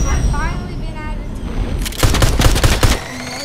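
Gunfire in the Fortnite video game: a burst of rapid shots crackles loudly for about a second near the end, after a stretch of quieter game ambience with a voice talking under it.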